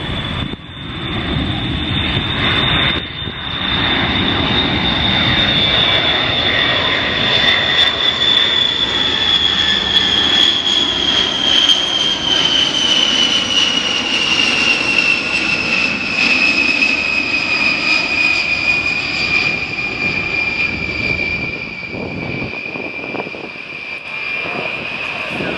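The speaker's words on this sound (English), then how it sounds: "our second pass of the B-52H from Barksdale Air Force Base. He's got the gear down, he's got the flaps down" A USAF B-52H Stratofortress from Barksdale Air Force Base makes a low smoky flyby with gear and flaps down at an airshow in London, its eight engines producing a loud, sustained roar and a whine that slowly drops in pitch as it passes.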